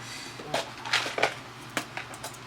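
Packaging of Kiara Sky Gelly nail tips is pried open, giving a few sharp plastic clicks and crinkly snaps in quick bursts, close and fairly quiet over a low background hum.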